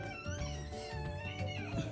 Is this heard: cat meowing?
yes